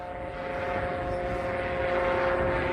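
An E-flite A-10 UMX radio-controlled model jet flies overhead with a steady, droning motor whine that holds constant and grows slightly louder, heard outdoors without talking.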